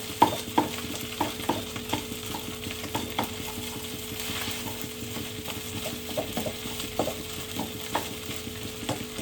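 Rice and onions sizzle steadily as they are fried for pineapple fried rice, with repeated scraping taps of a utensil breaking them up in the pan, close and moderately loud, no talking.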